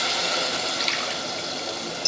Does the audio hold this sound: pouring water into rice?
yes